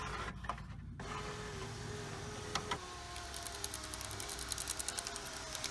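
Car power window motor pulling a cable back through its gear, a quiet mechanical whir that turns into a rapid ratcheting click, steady and close.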